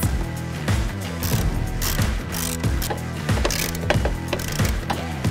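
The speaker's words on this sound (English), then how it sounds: "Start by removing these two bolts." A ratchet backs out two bolts on a 2016-2023 Polaris RZR XP Turbo, with rapid rhythmic clicking of the pawl repeating steadily throughout, close and loud, with no voices.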